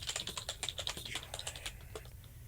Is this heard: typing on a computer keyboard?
yes